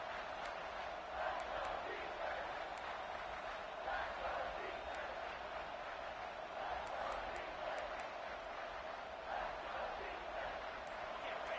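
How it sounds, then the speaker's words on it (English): A big stadium crowd at a Texas versus Georgia college football game roars steadily with the defense in the red zone, a dense, distant wash of cheering and yelling that holds at a constant level throughout. "the crowd coming to life here, trying to help this defense down in the red zone"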